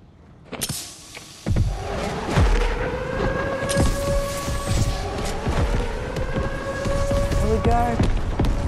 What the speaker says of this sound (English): Oh, airstrikes.